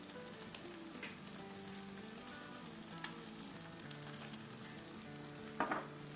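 Chicken stir-fry with tomato paste sizzles in a pan while being stirred, a steady soft frying hiss with a few light scraping and clinking accents, no voices.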